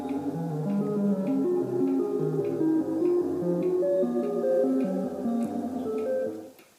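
A Solar 42F sample and hold module with its clock frequency raised, giving a steady run of stepped tones that jump between pitches in a quick, regular rhythm, loud and alone, before fading out at the end.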